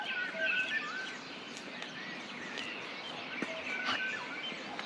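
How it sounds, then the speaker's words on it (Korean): Many kinds of wild birds sing together on Yonggwolsan mountain in Sunchang, Korea, giving a busy layered chorus of whistles and sharp chirps, some close and some farther off, with no talking. "합창단인데 완전히 그러니까 다양한 새들이 산다"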